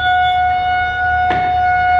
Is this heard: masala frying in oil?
no